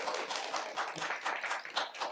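Audience applause at a library poetry slam after a performer finishes, a dense, steady wash of clapping for about two seconds with no clear talk.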